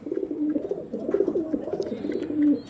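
Tournament-quality pigeons coo close by, a few soft throaty rolling calls in quick succession with no talk.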